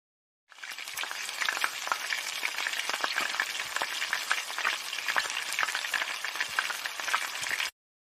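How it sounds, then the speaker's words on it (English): A frying pan sizzling, a dense crackling hiss with scattered pops that starts abruptly, holds steady and loud for about seven seconds, then cuts off cleanly. "The frying pan."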